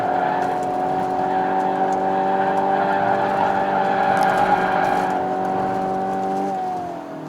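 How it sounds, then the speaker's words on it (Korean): A 2018 Kia K5 GT 2.0 turbo engine holds a steady high rev for several seconds, a strained tonal drone, then the pitch dips as the revs drop near the end. "엔진 소리, 회전수는 계속 빵 하고 올라가는데"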